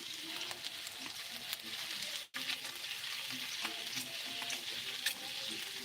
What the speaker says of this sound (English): You hear that sizzle? Give me a second of silence for the sizzle.